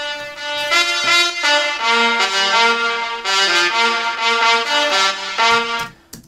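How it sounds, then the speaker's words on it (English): An unprocessed saxophone sample from Logic's built-in sounds plays a legato melodic line of sustained, reedy notes, close and fairly loud, with no voices over it. "It's this saxophone right here, which is from the inside sounds of Logic."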